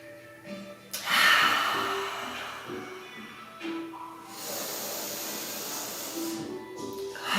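Deep breaths during a splits and stretching session, a long airy inhale followed by a slow exhale, soft and close, with faint background tones and no talk.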